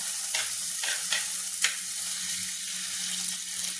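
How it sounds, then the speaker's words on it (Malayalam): Ginger, garlic and green chillies sizzle in a pan on low heat, a steady close frying hiss punctuated by several quick scraping stirs. "ഇഞ്ചി ഇട്ട് കൊടുത്തു വെളുത്തുള്ളി പച്ചമുളക് മൂന്നും കൂടെ ഒന്ന് ഒന്ന് വഴറ്റിയെടുക്കാം"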